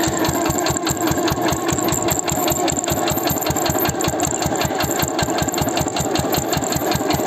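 Small tractor engine chugging in a fast, steady, even knock as it pulls away across a field, loud and close, no voices.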